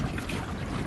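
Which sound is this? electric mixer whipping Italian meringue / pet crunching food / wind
wind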